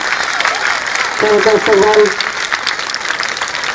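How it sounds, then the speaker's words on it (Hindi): Loud audience applause at a school Teacher's Day function at an Urdu high school in 2008, steady crowd clapping throughout with a speaker's voice briefly rising over it. "जोरदार तालियों से"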